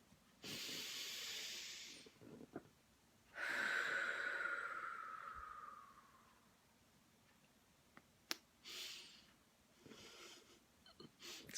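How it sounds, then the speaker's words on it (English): A slow, deep breath is drawn in and then let out with a long airy hiss, close and quiet, followed by a few softer breaths with no talking. "Okay, deep breath."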